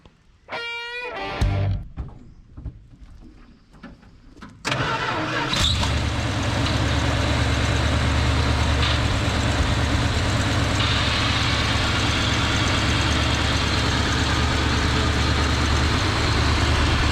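An old Dodge D100 pickup engine, recovered from a barn, cranks with a few short bursts, then catches around five seconds in and settles into a loud, steady low idle that runs to the end.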